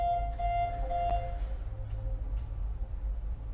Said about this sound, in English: he suddenly hears an alarm going off